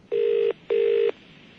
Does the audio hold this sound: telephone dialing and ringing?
yes